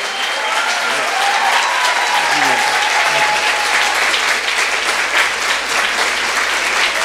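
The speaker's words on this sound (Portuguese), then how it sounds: "Uma salva de palmas para vocês." Steady applause from a crowd at the end of a law lecture fills the space, dense clapping continuing without a break; a voice is faintly heard early on.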